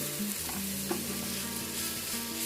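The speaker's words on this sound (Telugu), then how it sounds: "మొత్తం కోకోనట్ అలాగే కుకుంబర్ కూడా మిక్స్ అయ్యేటట్టు కలుపుకుందాం." Coconut and cucumber stirred and frying in a pan over low to medium heat for cucumber poha, a steady close sizzle with soft scraping strokes throughout.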